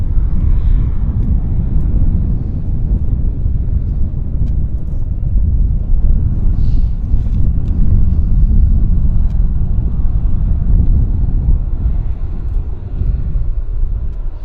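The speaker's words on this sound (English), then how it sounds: "I've got another airplane on approach." Air Canada flight 547 from Newark landing at Vancouver Airport: a loud, steady low rumble of engine noise that holds its level throughout, with no voices.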